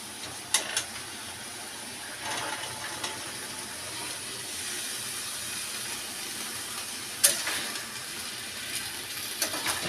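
Valachi bhaji vegetables hit roasted spices in a hot pan, sending up a steady, fairly loud sizzling hiss with a few sharp clatters scattered through it.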